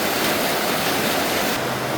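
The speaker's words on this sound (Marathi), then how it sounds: "हा मोठा पाऊस" A downpour of heavy monsoon-style rain in Kerala roars as a constant, even wash of noise, loud and close, with nobody speaking.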